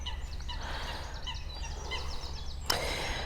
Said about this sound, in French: peut-être que vous entendez les oiseaux